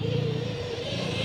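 A Caofen F80 Trail all-terrain dual-sport electric motorcycle passes close by, its steady electric whine riding over a broad rumble of tyre and road noise, loud and continuous with no voices.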